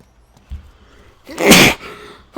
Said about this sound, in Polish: O Jezu, trochę mi się kichnęło.